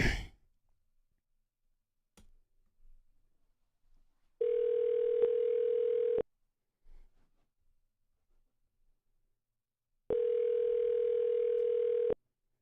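A phone call to a friend rings out, with two long, steady, loud ringback tones several seconds apart, a few faint clicks and small noises between them, and no talking.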